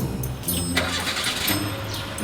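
A car engine cranks and starts close by, then settles into a steady, rumbling idle with no talk over it.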